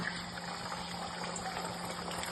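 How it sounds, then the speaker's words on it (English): Beaten egg poured into hot oil in a wok, giving a steady, faint bubbling and hissing wash of liquid sound with a low constant hum underneath and no talking. "Swish oil around the wok so all cover. Then add your cup of egg you made earlier."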